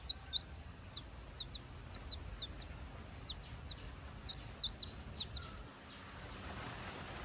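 A single newly hatched chick peeps in short, high, scattered chirps, a dozen or more spread irregularly over a quiet room background, fairly faint and close.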